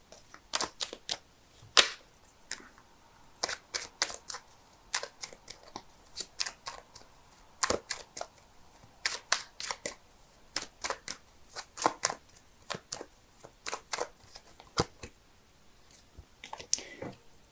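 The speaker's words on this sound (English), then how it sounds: "so give me a sec while I shuffle." Tarot cards being shuffled by hand, a series of crisp riffling and snapping bursts in irregular clusters, close and fairly quiet, with brief pauses between shuffles and no talking.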